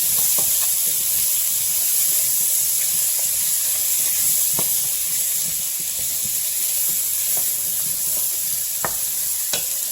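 A fresh-market vegetable stir fry sizzles steadily in a hot pan with a Himalayan pink salt seasoning, a continuous close hiss broken by scattered crackles and pops throughout.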